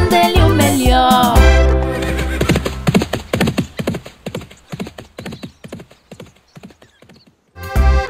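A horse whinnies, then hooves clip-clop in a steady trotting rhythm that fades briefly before another neigh bursts in at the end.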